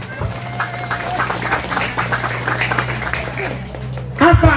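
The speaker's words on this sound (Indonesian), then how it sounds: "tepuk tangan dong." An audience at an Islamic religious gathering claps on request during a sermon, a short burst of hand claps over a steady hum, followed by an abrupt louder noise at the end.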